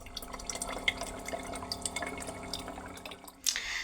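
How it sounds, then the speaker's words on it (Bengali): Water runs and drips into a 7 Up plastic bottle being refilled indoors, a close trickle with irregular drips and gurgles that stops near the end before a brief rustle. "তো এই দেখো জলটা আবার ভরা হয়ে গেছে"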